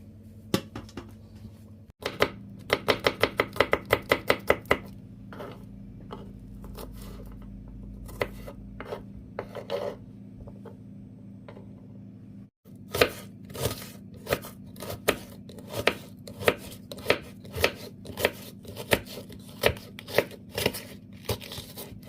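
Close, sticky tapping and clicking of utensils mixing seasoning into minced meat for cottage pie, irregular and brisk, over a steady low hum.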